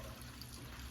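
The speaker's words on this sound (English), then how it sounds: "you can hear the water flowing into the storm drain right now" Water rushes and gurgles steadily into a storm drain, a continuous low watery roar close by, with no other sounds.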